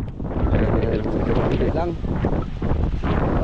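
Strong typhoon wind gusts roar steadily and loudly against the microphone, with a voice speaking briefly over the rushing noise.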